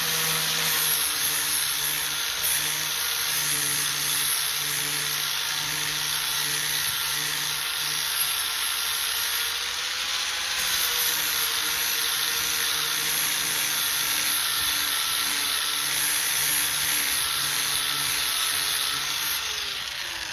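A 4.5-inch angle grinder fitted with a sandpaper pad rubs down a metal garden tool, giving a continuous high-pitched whine that holds steady and close for about twenty seconds with slight load changes.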